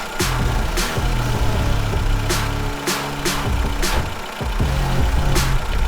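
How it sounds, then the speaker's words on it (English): A VW car engine, freshly fitted with new spark plugs, runs loud and steady at idle, a continuous low rumble with a regular pulsing beat and periodic bursts of higher hiss. "I'm nervous to start the car, but let's do it."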